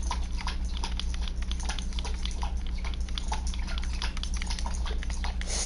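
A female dog keeps lapping water, a continuous stream of soft wet tongue clicks in quick regular rhythm, near and moderately loud against a steady low hum, no talking.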